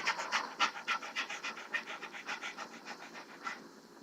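A person imitates a dog panting with rapid, rhythmic breathy huffs, about a dozen quick pants in a steady run, close and fairly loud, with no other sounds.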